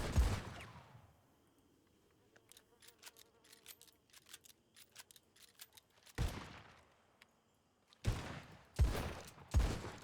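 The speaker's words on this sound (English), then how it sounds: "I need cover fire. Laying down suppressive fire." Bursts of suppressive gunfire in an online role-play game, heavy blasts opening and closing the stretch with scattered lighter clicks and rattles between, loud and close.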